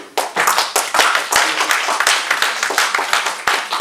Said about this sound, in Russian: Давайте хлопайте и не отпускайте.